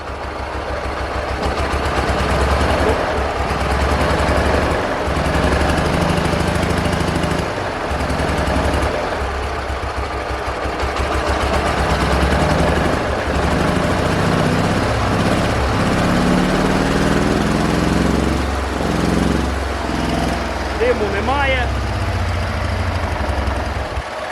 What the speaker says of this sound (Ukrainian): Все, на холостих гарно працює.